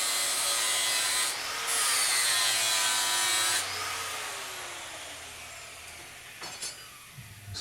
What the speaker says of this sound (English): just polish the cutting edge, not the rest of it, just cutting edge.